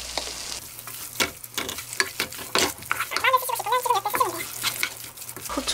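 Canned tuna and onion sizzle and crackle as they are stirred in a frying pan, with the spatula scraping and clattering against the pan, close up and moderately loud, no speech.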